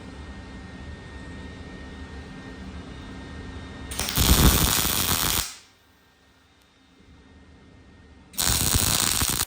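Tack welding on an OBS truck frame: two loud, close bursts of crackling, hissing arc, the first lasting about a second and a half, the second starting near the end, with quiet between.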